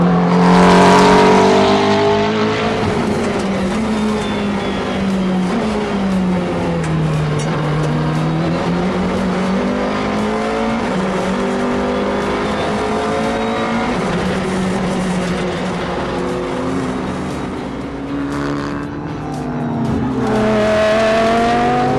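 A McLaren MP4-12C race car laps the Bathurst mountain circuit in the heat, its engine note loud and continuous, rising and falling through gear changes and corners, with brief tire squeal and no voices.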